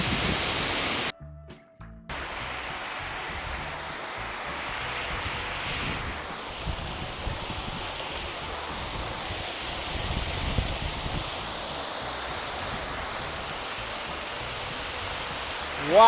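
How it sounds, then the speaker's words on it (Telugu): Ngardmau waterfall in Palau roars as a steady, broad rush of falling water, close and continuous, with wind buffeting the microphone and no talking. "ఆల్మోస్ట్ దగ్గర దాకా వచ్చేసా వాటర్ ఫాల్స్ దగ్గరికి."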